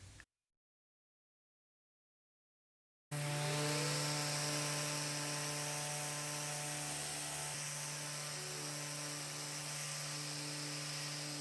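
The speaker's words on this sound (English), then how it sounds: "today is all about sanding" A steady, loud machine drone of a power sander on a wooden dresser runs continuously after a few seconds of silence, with constant whirring and hum.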